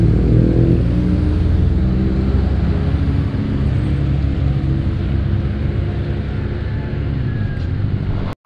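Big motorcycles on an endurance ride rumble along steadily in a loud, continuous engine drone with heavy wind buffeting throughout, no voices heard.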